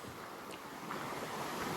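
Sea waves wash onto the beach at Hammamet with a steady broadband surf hiss, swelling slightly toward the end, with wind noise on the microphone.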